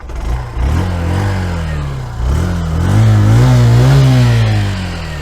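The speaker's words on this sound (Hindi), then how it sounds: "ये रेस देने में साउंड है, तो बहुत ही ज़्यादा स्मूथ है मोटरसाइकिल" A 2025 Honda Shine 100 DX motorcycle engine revs up twice from idle, each smooth rising throttle blip holding close and loud before easing off, with no voices.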